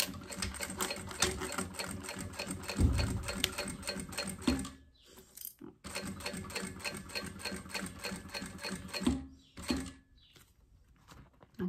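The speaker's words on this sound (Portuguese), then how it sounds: "Aqui a gente levanta, ó, e vem costurando aqui bem na beiradinha, ó, tá vendo?" An electric sewing machine stitching the edge of a synthetic leather women's wallet, a fast steady whirring run that stops, a short quiet pause, then a second long run and another stop, close and without talk.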